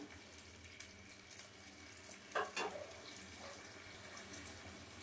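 Water poured into a pot of Bengali vegetable-fritter curry made with gram flour and poppy seed, a short splashing burst midway over a steady low sizzle and kitchen background, faint and close.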